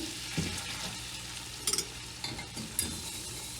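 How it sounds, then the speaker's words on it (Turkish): Flour is stirred and toasted in melted butter in a pot, giving a soft, low sizzle with occasional scraping stirs and light clinks of a spoon, heard alone and fairly faint. "unun kokusu çıkana kadar kavuracağım"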